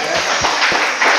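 Brief burst of group clapping and applause at a gym award ceremony, a few distinct claps standing out over a dense wash of hand noise.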